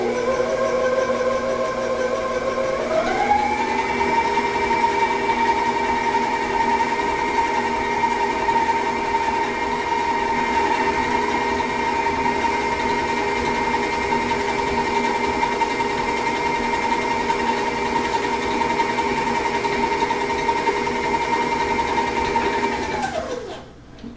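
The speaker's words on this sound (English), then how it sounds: "put that back on the mixer and give that another mix till it's blended" An electric stand mixer beats cake batter for a strawberry lemon cake, its motor whine climbing to a steady, loud drone that holds unbroken for about twenty seconds before spinning down at the end.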